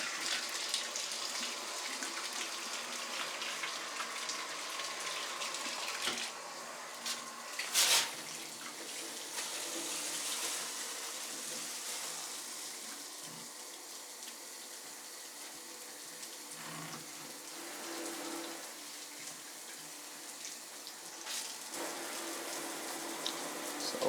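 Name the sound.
shower heads running water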